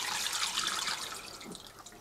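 Water, a 50-50 mix of reverse-osmosis and tap water, pours into a Juwel Lido 120 aquarium tank during refilling after filter cleaning: a steady, hissing splash that stays soft and continuous throughout.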